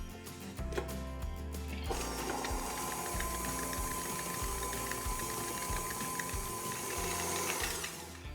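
An electric kitchen machine whips sugar and eggs into a foamy batter for a turmeric golden milk cake, giving a continuous motorized whir that steps up in intensity after the first two seconds and runs steadily without talk.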